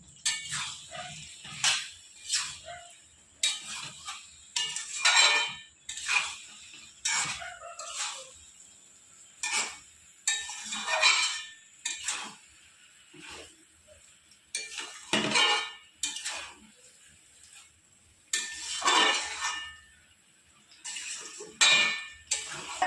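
Soybean chunks stirred and sautéed in a covered pot, with repeated scraping and clinking strokes of a spoon against the pot in an uneven rhythm, close and fairly loud, with no talk.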